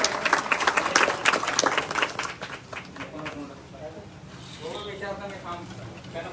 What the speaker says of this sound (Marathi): बसवराज पाटील साहेब आले त्यांचं आपण सर्वांनी टाळ्या वाजून स्वागत करूया